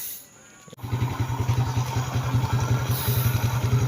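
A motorcycle engine, just back from a connecting rod repair, catches after a short quiet start and settles into a steady, close, pulsing idle with an even rhythmic beat and a faint tapping clatter.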